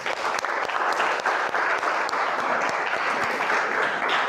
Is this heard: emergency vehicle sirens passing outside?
no